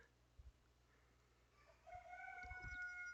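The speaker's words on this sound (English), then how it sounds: "Why is the rooster crowing at 2 o'clock in the afternoon." A rooster crows once, faint and distant, its call rising and trailing off over quiet background with a few soft thumps.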